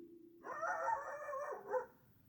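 A dog lets out one drawn-out, faint bark or yelp that sounds somewhat distant, followed quickly by a shorter second yelp, in an otherwise quiet setting.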